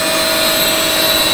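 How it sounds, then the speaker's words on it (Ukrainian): Steady whining grind of an internal grinder grinding a Morse 4 internal taper, a constant high tone over a dense mechanical hum, loud and close with no pauses. "Шліфуємо внутрішній Морзе 4."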